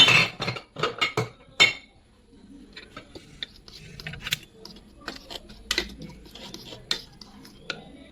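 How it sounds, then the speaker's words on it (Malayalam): A spoon mixes jackfruit snack batter in a bowl: a few sharp, close metallic clinks at first, then a softer run of scattered taps and scrapes against the dish. "എന്നിട്ട് ഇത് നല്ലോണം ഒന്ന് മിക്സ് ചെയ്യാം."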